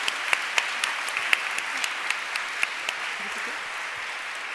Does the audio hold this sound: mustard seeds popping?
no